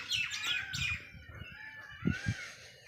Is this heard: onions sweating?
no